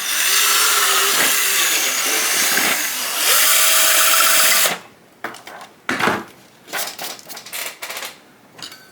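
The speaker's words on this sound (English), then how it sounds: "we can put the drill in the center hole" Power drill boring holes into a sheet of HIPS high impact polystyrene: a loud sustained whine with shifting pitch for several seconds, then stops, followed by scattered rattles, knocks and handling clatter close by.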